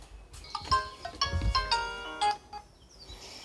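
A phone rings while a father calls his daughter from a mountain home in Gangwon-do near Seoraksan. A faint, bright melodic ringtone plays a run of quick chiming notes, with light outdoor background sound and no talk.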